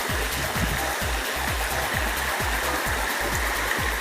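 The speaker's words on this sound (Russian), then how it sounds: "Вот здесь с этой трубы набирают воду в бутылки." Spring water from a glacier in Yakutia pours from a pipe in a steady gushing stream, with rhythmic gurgling splashes close by and no voices.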